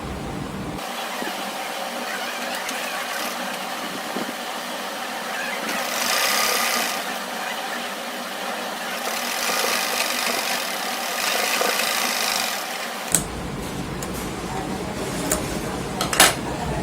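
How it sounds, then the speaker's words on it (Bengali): An electric sewing machine runs steadily through press stitching, a continuous mechanical whir with faint rattling that holds for about twelve seconds, then stops, leaving a few small clicks. "এবার চাপ সেলাই দিয়ে দিব।"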